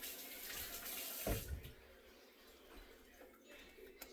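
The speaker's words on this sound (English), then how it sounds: "I'm gonna wet my hands." Water runs from a kitchen tap while hands are wetted during sourdough bread making, a steady soft rush that is strongest at the start, briefly splashes, then fades to a faint trickle.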